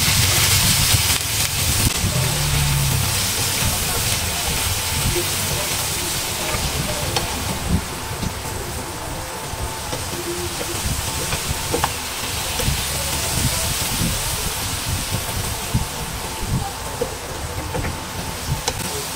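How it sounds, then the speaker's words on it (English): Broccoli and carrots stir-fried in a hot pan, with a steady loud sizzle and frequent scraping, clattering stirring strokes running throughout, no talking. "Stir fry the broccoli and carrots in 1 minute."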